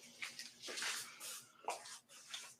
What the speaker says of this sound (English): And we'll clean the area with water.